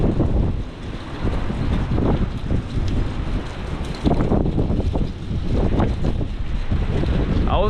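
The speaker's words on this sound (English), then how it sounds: "That cold front is going to bring in those strongest wind gusts. And it's doing it right now." Strong gusts from a cold front during a windstorm in the Ohio Valley roar and buffet a microphone in a steady, loud rush with swelling surges, no voices present.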